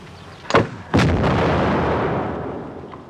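Artillery guns firing: two heavy booming shots in quick succession, the second followed by a long rumbling roll that fades slowly, loud and with no voices.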